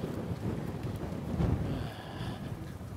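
Wind off the sea near Jeju on a yellowtail fishing trip makes a steady, low, rumbling gust that buffets the microphone, rising briefly midway, with no voices.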